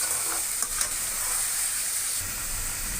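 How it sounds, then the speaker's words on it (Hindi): Salted mutton pieces for karahi sizzle steadily in a hot pan with oil, a loud, even, hissing fry that stays constant throughout, with a couple of faint clicks. "कितना ज़बरदस्त ये फ्राई हो रहा है"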